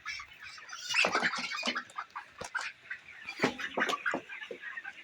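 Broiler chickens about 26 days old cluck and squawk in irregular bursts at close range while being weighed in batches on a farm, with agitated calls rising and falling.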